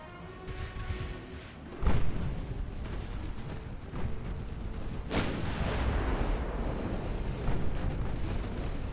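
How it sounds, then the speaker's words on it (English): Warships open fire in the naval game Ultimate Admiral: Dreadnoughts with 1890-era hulls: heavy gun booms land at two points over a continuous low, roaring rumble of battle, with no talk. "All ships fire on that vessel."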